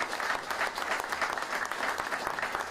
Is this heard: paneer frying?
no